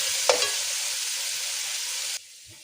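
Masala spices fry in a hot pan, a loud, dense sizzle up close with a stirring scrape near the start, cutting off abruptly near the end.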